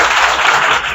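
A brief, loud burst of audience clapping for a student at an achievers award ceremony, dense and close for about a second with no pause.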